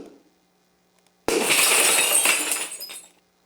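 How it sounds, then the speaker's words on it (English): A glass-smashing sound effect bursts in suddenly after near silence, a loud crash followed by about two seconds of scattering, tinkling shards that fade out. "I got 2 smashing glass sound effects."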